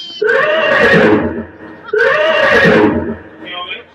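A horse neighs loudly twice in close succession, each whinny rising and falling over roughly a second, close and clear, with faint background sound afterward.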